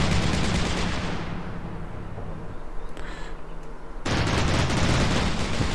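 Gunfire in Combat Mission Market Garden: loud rapid machine-gun bursts that fade to a lull with distant rumble, then a sudden renewed fusillade.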